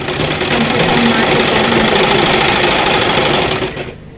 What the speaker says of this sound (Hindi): मैं पेटीकोट कटिंग कर ली हूँ और अब इसकी सिलाई कर देती हूँ